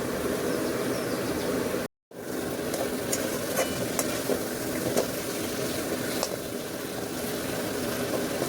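Potato and vegetable stems frying with spices in a pan, a steady sizzle with faint clicks of stirring, briefly cut off near the start and then continuing alone.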